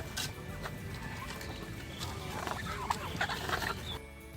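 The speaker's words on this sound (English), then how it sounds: "Turkeys are known for their gobbling sounds." A turkey gobbles in a fast, warbling run of calls, moderately faint over a steady background hiss, with the gobbling strongest in the second half.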